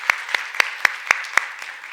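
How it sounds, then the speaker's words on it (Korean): Clapping in a church congregation offering thanks to God, heard as a few close, sharp claps falling in a steady rhythm of about four per second. "우리 한번 하나님 앞에 다시 한번 감사의 박수 드릴게요."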